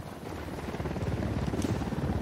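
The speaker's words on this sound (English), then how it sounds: "Helicopter, get down." Low, steady rotor-like rumble building gradually in loudness, a helicopter drawing nearer in Ghost Recon Wildlands, with no voices over it.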